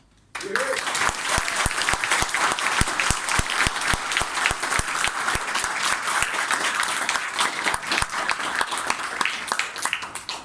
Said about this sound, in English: We have to invite with a thunderous applause.